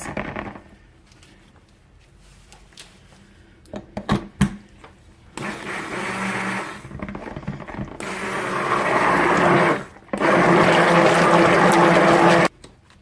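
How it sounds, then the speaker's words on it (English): Stick blender whirring through white soap batter in bursts, loud steady runs broken by short pauses, with clatter and handling noises between. "So I'm going to make this nice and white, blend this out"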